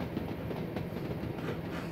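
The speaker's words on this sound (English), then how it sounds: "Reptile Rick, this is a Class 37. This is a relatively old train in the UK" A Class 37 diesel locomotive, an older British train, runs in Train Simulator with a faint, steady low rumble and soft clickety-clack of wheels on rail.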